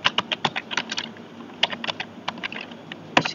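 Code being typed on a computer keyboard, with crisp close key clicks in quick bursts and short pauses between them, each stroke distinct and fairly loud.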